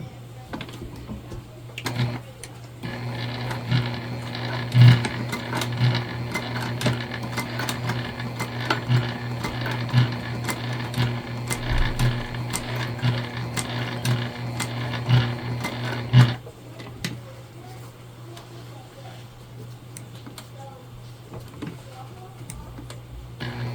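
A sewing machine stitches a bag close to its hardware, running as a rapid rhythmic clatter for about thirteen seconds, with faint handling sounds before and after the stitching.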